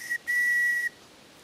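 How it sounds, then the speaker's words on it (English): A homemade whistle carved from a twig gives a short high chirp, then one steady shrill note held for about half a second, clear and close, with no talking around it. "it's a twig whistle"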